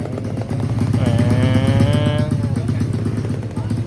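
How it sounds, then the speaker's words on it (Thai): A fast red RC car in a Roblox speed map gives a continuous buzzing exhaust note whose pitch wavers and rises briefly mid-run, loud and close throughout. "เฟังเสียงท่อนะครับ"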